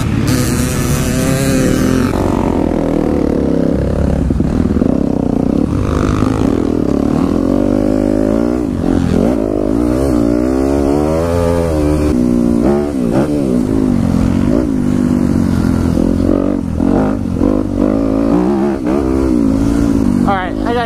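A motorcycle laps a race track at Milestone in third gear after being re-geared. The engine roars loud and steady, rising and falling through revs under constant wind rush.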